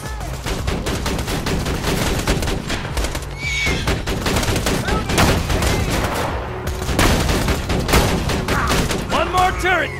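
Autogun turrets in Borderlands 2 fire in dense, continuous bursts of rapid gunfire, loud and close, layered over game effects and chaotic combat noise with brief lulls.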